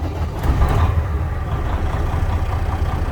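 A diesel van with a medium roof idles steadily with one faulty injector, a continuous low rumbling engine drone, close and fairly loud, with no talking.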